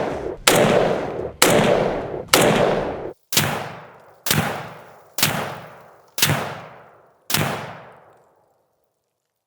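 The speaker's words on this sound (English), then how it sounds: "So of course we're shooting the K43 right here" Eight sharp rifle shots from a K43 (Gewehr 43) semi-automatic rifle, spaced about a second apart, each a loud crack trailing into a fading echo, with no voices.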